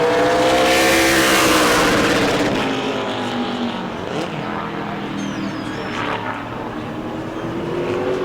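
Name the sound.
Super Late Model race car lapping at speed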